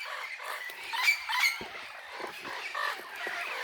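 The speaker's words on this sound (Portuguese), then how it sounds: "se não verem os periquitos aqui, os papagaios, mas só esse som aqui já é o suficiente." Parakeets and parrots calling on a farm, a mix of squawks and chirps at moderate distance, repeated irregularly over quiet background.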